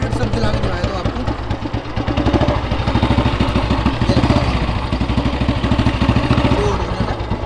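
Up close, the engine of a restored 1983 Royal Enfield Bullet motorcycle runs loud with a rapid regular single-cylinder thump and mechanical clatter, swelling slightly midway, while someone speaks over it.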